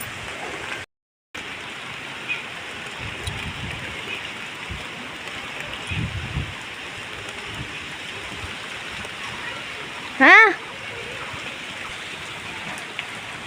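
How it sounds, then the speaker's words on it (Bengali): Steady rain falls on an open rooftop where flowers grow, a continuous close hiss of drops throughout, with a short break near the start and one brief spoken word near the end. "ছাদে আসলাম আর বৃষ্টি পড়ছে"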